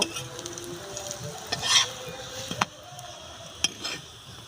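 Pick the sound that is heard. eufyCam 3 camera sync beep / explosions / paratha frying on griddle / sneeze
paratha frying on griddle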